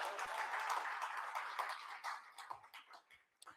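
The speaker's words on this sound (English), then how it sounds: "Let's please give our chair a round of applause" Brief applause from a business conference audience in Namibia for the session chair, a soft patter of clapping that fades within a few seconds into scattered claps.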